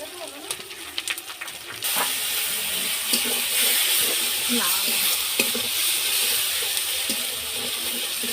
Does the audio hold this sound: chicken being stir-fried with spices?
yes